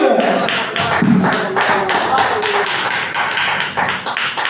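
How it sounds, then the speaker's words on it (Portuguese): A church congregation claps in a strong, regular rhythm, the beats sharp and evenly spaced, with voices audible underneath throughout. "E palmas a Jesus por essa grande ministração que edifica a nossa alma."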